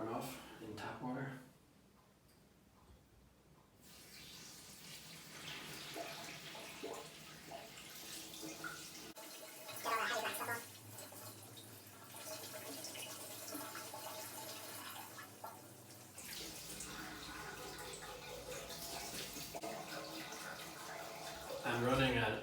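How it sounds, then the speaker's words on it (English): Tap water runs over carbon filter media being rinsed for an aquarium, a steady splashing flow with shifts in tone as the stream hits the material, continuing for most of the stretch with brief quieter gaps. "rinse the carbon off in tap water."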